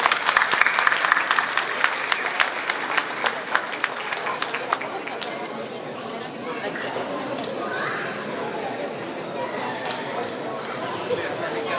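Applause from the audience at a fundraising dinner fills the room, dense clapping that is strongest at first, then thins and fades into steady crowd murmur and chatter.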